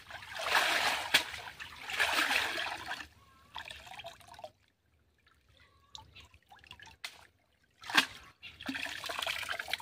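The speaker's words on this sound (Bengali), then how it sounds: "এবার মাছগুলো ধুয়ে নেই" Large pangas fish being washed by hand in water give off splashing, sloshing and trickling bursts, separated by quieter pauses with a few drips, close and moderately loud.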